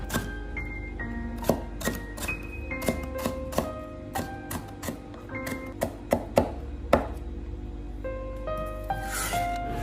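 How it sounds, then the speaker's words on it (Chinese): Knife blade repeatedly striking a cutting board while mincing shredded ginger, a close, irregular series of sharp chopping taps with no talk over them. "最后把姜丝切成姜末。"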